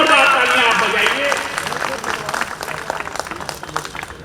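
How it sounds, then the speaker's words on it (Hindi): Applause from the audience at an all-India mushaira and poetry gathering, strong at first under a speaking voice, then breaking into crisp, scattered claps as it thins out. "पर जोरदार तालियां आप बजाइए।"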